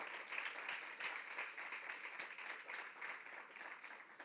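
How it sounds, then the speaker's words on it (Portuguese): Congregation in a church breaks into sustained applause, a dense, even patter of many hands clapping at a moderate, slightly distant level, with no talking. "Pode aplaudir Jesus por isso"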